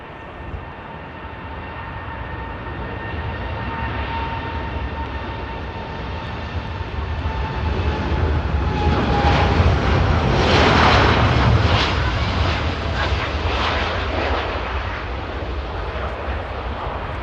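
Airliner taking off at Manchester Airport, a distant jet roar that swells to a peak midway through and then slowly fades as the aircraft climbs away.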